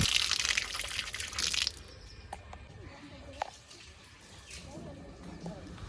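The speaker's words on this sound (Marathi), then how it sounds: "आपण आपले पाय स्वच्छ पाण्याने धुवून घेऊया. इथे नळ दिसतोय." Water gushing from a tap at a temple in Nallasopara as feet are washed, a loud splashing rush for under two seconds, then cutting off to faint drips and quiet background sounds.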